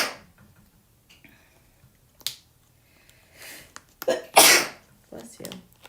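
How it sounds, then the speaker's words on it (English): Several sharp sneezes from a person at a jewelry-making table, bursting out one after another in the second half, loud and close, with small clicks and handling noises between them. "Sorry guys, I'm always a 3 sneezer at least."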